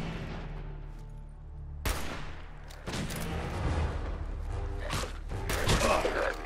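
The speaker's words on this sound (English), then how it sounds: "Opening fire." Gunfire crackles in the Fallout 4 video game, with bursts and heavy booms layered over a dense, loud, continuous game soundscape.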